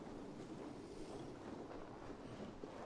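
Steady, rushing wind gusts before a storm in Assassin's Creed Valhalla, a broad continuous whoosh with faint surf-like swells, loud and unbroken with no voices.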